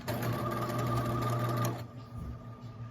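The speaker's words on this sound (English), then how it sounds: "As I'm sewing, I'm always like feeling and like pushing the fabric this way" A sewing machine runs steadily for under two seconds, stitching fabric for a romper with a loud, even mechanical whir, then stops abruptly, leaving faint handling sounds.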